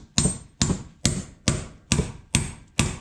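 A shop anchor is hammered down into a concrete floor with a socket, seven sharp, close, evenly spaced metal blows that ring briefly after each hit.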